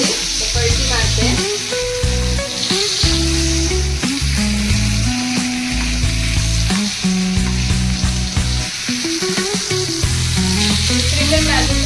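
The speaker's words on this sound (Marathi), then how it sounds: "दुसरी पण बाजू फ्राय झाली." Bangda (mackerel) fish sizzles steadily as it fries in a pan, a continuous close crackle running beneath loud melodic background music for the whole stretch.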